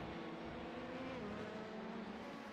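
A race car leaves the pit lane on Circuit de Catalunya, a faint, steady engine drone with a slowly shifting pitch, heard alone and from a distance.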